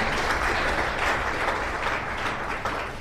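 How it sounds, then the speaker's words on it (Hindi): Sustained applause from a seminar audience at a network marketing event, steady dense clapping filling the room at close range for the whole stretch, with no talk over it. "इस परिवर्तन के लिए एक बार जोरदार ताली बजाइए"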